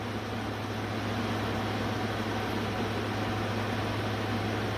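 A Danby DAC050MB1WDB 5,000 BTU window air conditioner runs with a quiet, even hum and a soft airy whoosh that holds unchanged throughout.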